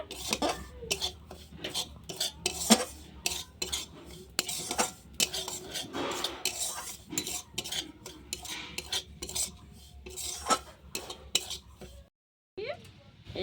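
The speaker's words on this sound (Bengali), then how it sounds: "সুজিটা একটু ভালো করে ভেজে নিতে হবে ঘিয়ের সাথে" Semolina being stirred and fried in ghee in a pan, with frequent clattering scrapes of a spoon against metal over a faint sizzle, ending in a short silence.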